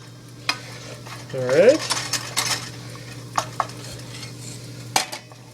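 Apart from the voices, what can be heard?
stirring a mixture in a pan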